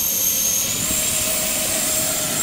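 JRM-01 model airplane with landing gear, its engine whining steadily and loud, a constant high-pitched drone with a lower tonal hum, close by and unbroken, no talk.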